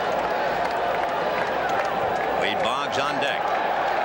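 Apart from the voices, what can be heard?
baseball stadium crowd cheering at the World Series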